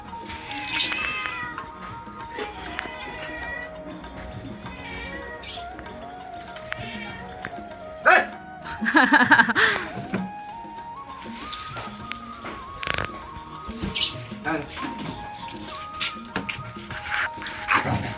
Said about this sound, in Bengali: কাক কুকুর বিড়া সবাইকে খাবার দিচ্ছে